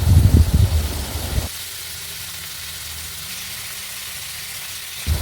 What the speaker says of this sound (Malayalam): സബോള ആഡ് ചെയ്ത് നന്നായിട്ട് വഴറ്റിയെടുക്കണം